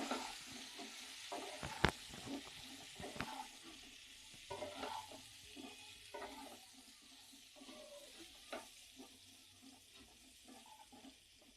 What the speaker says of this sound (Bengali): হলুদের গুঁড়ো, এটা নাড়াচাড়া করে এটাকেও ভেজে নেব